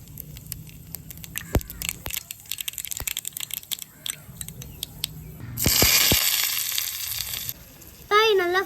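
Mustard seeds sputtering in hot oil in a kadai: scattered pops and crackles that swell into a steady loud sizzle, then fade, with a brief whistle-like tone at the end.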